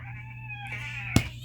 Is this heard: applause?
no